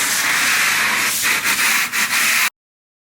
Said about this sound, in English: You're gonna be scraping the texture.